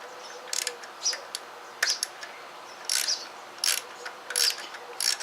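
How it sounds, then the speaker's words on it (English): A small hand ratchet tightens a bolt on the plastic bypass valve housing of a Karcher 2200 pressure washer, giving short bursts of close, crisp clicking separated by brief pauses. "I'm going to use a little ratchet for that."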